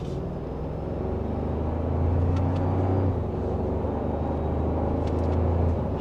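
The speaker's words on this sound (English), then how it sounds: "From second gear, we'll give it a small acceleration." A 2026 Toyota 4Runner TRD Sport in sport mode pulls away from second gear under light acceleration, its engine a steady low rumble with a faint whine rising slightly as it gains speed.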